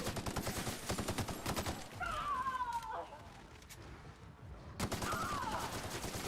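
Rapid bursts of gunfire at a rock in The Outer Worlds, dense repeated shots near and loud, breaking off for a quieter gap in the middle before a second burst, with faint voices underneath.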